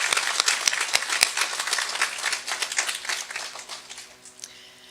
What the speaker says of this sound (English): the team, definitely needs a round of applause for the work and the leadership that they've shown